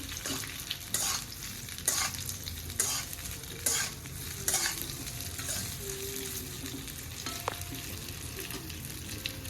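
Thin slices tossed into a pan with curry leaves for a Gujarati festive thali, rhythmic spatula scrapes about once a second over a constant close sizzle of frying.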